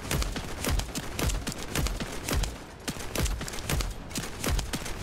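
Steady rapid gunfire in the sci-fi looter shooter The First Descendant, aimed at sensors during a boss fight: evenly spaced loud, punchy shots repeating throughout with no pause, heard alone and close.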